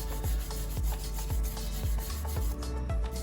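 Rhythmic scrubbing of surface rust from the rear brake pad channels of a VW Passat, a steady rasping rub with regular strokes about every half second, close and continuous with no talk.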